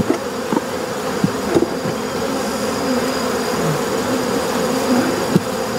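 Honeybees buzz loudly and continuously around an opened hive being split into nucs, a dense close swarm hum with occasional nearer individual bees passing.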